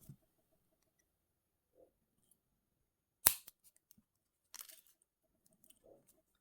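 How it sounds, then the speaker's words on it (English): Cutting jewellery wire with snips, two sharp, close metallic clicks in a very quiet space, with faint small handling taps around them. "I'm just going to make a little gap, cut those wires"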